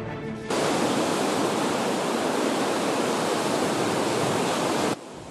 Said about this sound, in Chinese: 受到天鹅台风影响，垦丁吹起了六级阵风，海边也扬起阵阵巨浪。